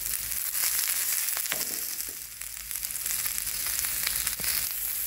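Cumin, sliced bell pepper and onion shallow frying in oil over low heat, a continuous close sizzle with a few crisp clicks and scrapes of stirring, no voices.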